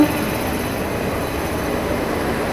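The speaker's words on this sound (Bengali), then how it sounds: "আমার ট্রেন প্রবেশ করে গেল শিয়ালদা 14 নম্বর প্ল্যাটফর্মে" The brand-new Amrit Bharat Express from Banaras pulls into platform 14 at a crowded Sealdah station, a steady, loud rumble that holds evenly throughout with no voices over it.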